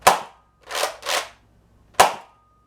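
A modified Nerf Rival Artemis blaster fires four sharp, loud pops in quick succession, one, then a close pair, then one more, with silence between shots.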